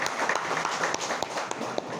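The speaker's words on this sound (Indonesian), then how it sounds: "tepuk tangan untuk kita semua" An audience at a government office evaluation meeting gives a short burst of applause, scattered hand claps rattling along evenly at moderate distance for about two seconds.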